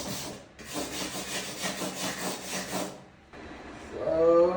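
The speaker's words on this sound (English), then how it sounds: "I'm gonna move on to scraping the window" A hand scraper rasps across window glass in quick, rhythmic back-and-forth strokes, fairly quiet and close, before a brief pause and a rougher scrape.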